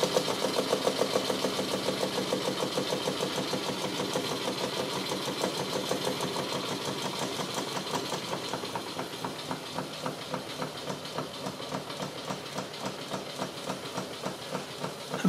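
A PM Research #1 model steam engine running on a boiler fired with alcohol gives a steady, rapid rhythmic chuffing and clatter that holds an even pace throughout, close and moderately loud with no talk.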